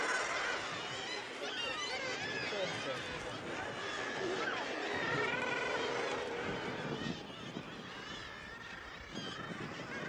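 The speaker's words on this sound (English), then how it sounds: "The cliffs are crowded by birds, and this can lead to scuffles among the population." A dense chorus of seabirds, including razorbills, calls continuously from crowded cliffs on the Farne Islands, many harsh overlapping cries blending into a busy, loud colony din.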